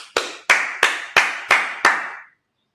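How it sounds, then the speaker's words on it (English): Congregation at a Sabbath service clapping in unison, six sharp, evenly spaced loud claps in a steady rhythm with a brief ring-out after each, then silence. "All right, let's clap it up."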